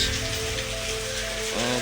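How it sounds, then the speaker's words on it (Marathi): Steady light monsoon drizzle in Maharashtra patters over a low background hum, a soft continuous wash of drops. "पाऊस होत आहेत बघा रिमझिम रिमझिम पाऊस"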